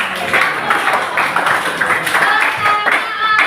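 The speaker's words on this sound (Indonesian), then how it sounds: "kasih aplaus untuk kelompok" Classroom applause for a student group during a teaching practice lesson: several seconds of steady, dense clapping from many hands, fairly close, with a few voices mixed in.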